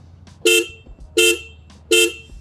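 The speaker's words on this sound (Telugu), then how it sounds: "అండ్ హార్న్ చూసుకుంటే" A Royal Enfield Bear 650 motorcycle horn sounds three short, evenly spaced honks, close and loud, with no voices between them.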